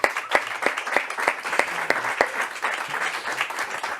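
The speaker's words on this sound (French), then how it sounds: "Vous pouvez vous applaudir." Studio audience applauding after an hour-long session, steady dense clapping with some sharper individual claps standing out, moderately loud and continuous throughout.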